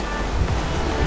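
Ocean surf rolling in beside a seaside promenade at Playa Blanca, Lanzarote, in the Canary Islands, a steady close wash of waves with some wind rumble, no talk.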